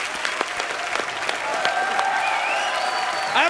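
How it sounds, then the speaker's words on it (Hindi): Audience applause at a live show, a dense crowd clapping steadily and loudly throughout, with some whistling rising through the middle and end. "जोरदार तालियां इनके लिए"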